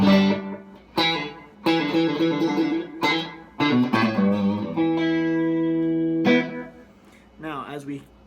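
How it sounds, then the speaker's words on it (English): MXR Carbon Copy analog delay pedal on an electric guitar played through the neck pickup, with picked notes and chords trailing into repeating echoes that sustain and fade between phrases, fairly loud and close. "Now, as we turn the delay up, it becomes longer"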